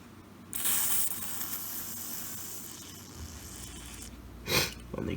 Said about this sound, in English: So, I should just be able to spray some on this board.